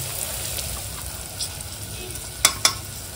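Paneer frying in a pan with biryani masala, a soft steady sizzle running throughout while a spoon stirs, with two sharp scraping clacks near the end.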